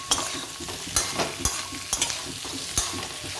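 Spiny gourd stirred in a pan with turmeric and chili, a spoon scraping and knocking against the pan in a few sharp, irregular strokes over a steady sizzling hiss.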